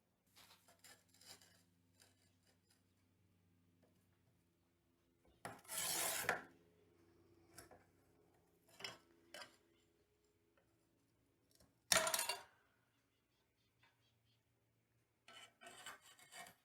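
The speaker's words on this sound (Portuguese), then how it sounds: "Então, esses da lateral, eu tô cortando assim bem pequeno." Small mosaic tile pieces are scored and snapped with a hand tile cutter, giving two loud bursts of gritty scraping separated by quiet gaps and scattered light clicks and taps.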